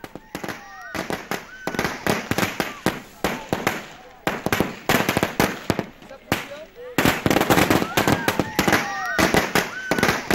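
Fireworks and firecrackers set off by families celebrating the rescue of workers from the Uttarkashi tunnel. Rapid, dense crackling bursts and pops fire in continuous volleys, with voices faintly mixed in.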